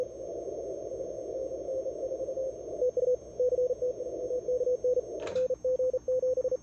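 A Morse code CW call goes out on a ham radio during the CQ World Wide CW DX contest: a clear, steady-pitched tone keyed in quick dots and dashes over a constant hiss, with a short burst of static midway.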